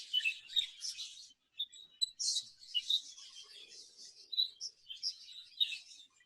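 Exhibition budgerigars in an aviary chirp and twitter continuously in quick, bright bursts, a busy overlapping chatter of several birds at moderate distance with no one talking.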